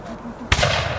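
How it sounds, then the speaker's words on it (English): At a battle reenactment at Black Creek Pioneer Village, a single musket shot cracks out sharp and loud after a quiet moment, followed by a short rumbling echo. "if you think those musket shots are loud from back here"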